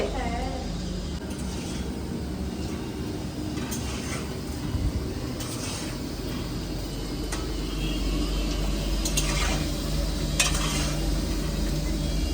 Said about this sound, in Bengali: এখন আলু দমের আলু ভাজছি